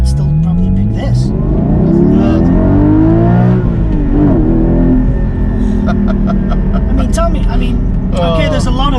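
A Porsche 718 Cayman GT4 engine revs and pulls while driving, rising and falling in pitch through the gears, loud and close, with people talking over the engine note.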